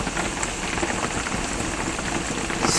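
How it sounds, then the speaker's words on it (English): Rain pours steadily on a roof during a thunderstorm in the Carolinas, a dense, even hiss with no talking, swelling slightly louder at the end. "I just wanted to hear the rain on the roof."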